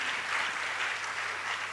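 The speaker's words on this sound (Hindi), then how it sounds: "जोरदार तालियां होनी चाहिए।" Steady, dense applause from an assembled crowd at a religious birthday celebration for a guru, holding at an even level with no pauses and no talk over it.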